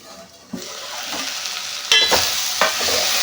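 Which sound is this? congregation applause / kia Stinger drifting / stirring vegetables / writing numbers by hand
stirring vegetables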